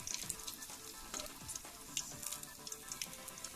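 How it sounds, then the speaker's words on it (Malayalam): Chicken pieces for a spicy fry sizzle in hot oil, a dense continuous crackle with scattered pops and occasional stirring, close by and moderately quiet, no voices. "ബാക്കിയുള്ള ചിക്കൻ പീസിനും കൂടെ നമ്മളങ്ങോട്ട് എണ്ണയ്ക്കകത്തോട്ട് ഇങ്ങോട്ട് വറുത്തങ്ങ് എടുക്കുകയാണ്."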